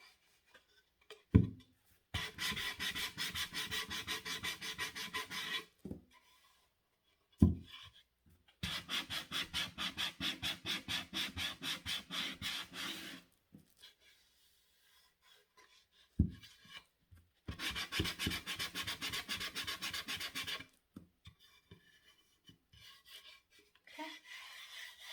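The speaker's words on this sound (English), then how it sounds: "So now it's the first layer of gesso has been sanded down." Sandpaper rubs over a first coat of gesso in three long, rhythmic back-and-forth sanding passes separated by quiet pauses, close and fairly soft, with occasional taps between strokes.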